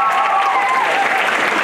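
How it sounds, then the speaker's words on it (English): Audience applauding performers at a Bollywood and Diwali community event, a steady dense wash of clapping held at full loudness throughout the short stretch, with a faint voice or tone running underneath. "A big round of applause for our stars."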